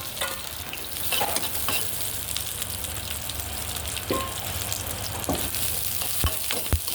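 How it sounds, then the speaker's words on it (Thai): Onions stir-fried in vegetable oil for squid with curry powder crackle in a steady close sizzle, with sharp scraping and tapping spatula strokes against the pan scattered throughout. "ใส่น้ำมันพืชลงไป หอมใหญ่ผัดก่อนนะครับ"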